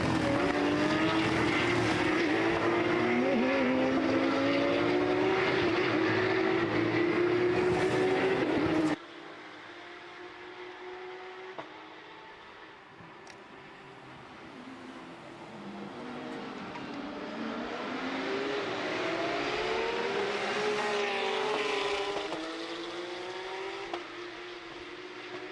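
Porsche race cars out on track during a Porsche Sports Cup Suisse qualifying session at Imola, engines whining and rising in pitch as cars pass close by, with an abrupt drop to a quieter distant drone before another car swells in.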